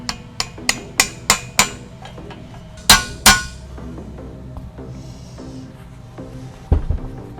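A hammer taps a socket to drive a swingarm bearing into a Gen 3 Hayabusa single-sided swingarm: a quick run of six sharp metallic strikes, a pause, then two heavier ringing blows and a later muffled knock.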